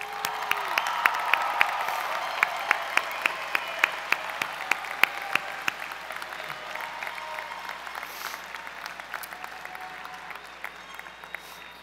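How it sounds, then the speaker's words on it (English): Audience applause for nursing and health professions graduates at a 2017 Drexel University commencement ceremony, a steady wash of clapping from a large crowd with sharp individual claps standing out, gradually fading toward the end. "let's have one more round of applause for all our graduates"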